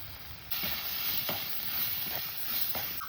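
Spices and aromatics, including turmeric and pepper powder, sizzle steadily in a pan for a home-cooked clam dish, with a soft hiss and a few scraping stirs.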